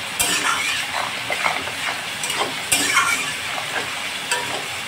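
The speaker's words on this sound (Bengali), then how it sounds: "এটা কিন্তু বেরেস্তা ভেজে নিচ্ছি। বেরেস্তাটা এইভাবে লাল করে ভেজে নিতে হবে" Onions fry for biryani beresta in hot oil, giving a steady sizzle with frequent scraping stirs and metal clinks from the spoon against the pan, close and continuous with no talk.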